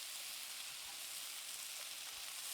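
Mushrooms and onions sizzle in a hot pan alongside a rare steak, making a steady, close, even frying hiss with no talking.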